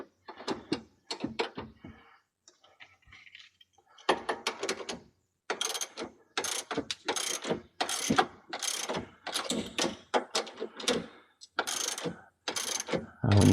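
A ratchet tightens bolts on lower control arm relocation brackets under a 1993-2002 Camaro. Clicking strokes come close and clear in repeated bursts, broken by short pauses.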